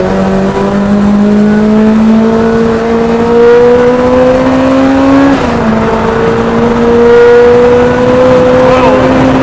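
A supercharged K20-engined Renault Clio accelerates hard in fourth gear on a track, its engine note climbing steadily with a brief dip at a shift, loud and close, with a whining rise throughout.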